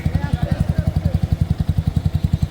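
Motorcycles warming up before a ride give a close, steady, rapid thumping idle, with a voice faintly underneath.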